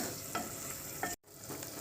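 Eggs frying in masala in a pan, a steady low sizzle with a couple of brief stirring scrapes, cut by a short gap before the sizzle resumes.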